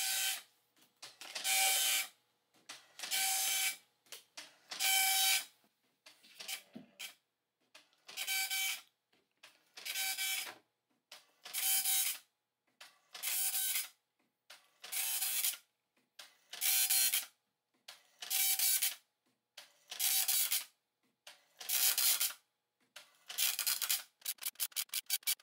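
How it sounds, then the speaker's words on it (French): An old computer printer runs a desktop-publishing printout, giving a long series of regular bursts of mechanical printing noise separated by short pauses, close and steady with no talk. "J'envoie sur l'imprimante."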